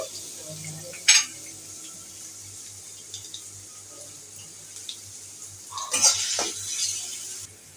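Chopped onion and garlic fry in oil for a Bengali taro stem dish, giving a steady soft sizzle throughout with a few louder splashy bursts and clinks partway through and near the end.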